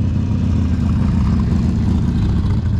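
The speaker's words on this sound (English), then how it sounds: "Let's let this motorcycle go by. He's a little bit on the loud side." A loud motorcycle passing close by, a steady heavy engine roar holding strong throughout the short stretch with no talk.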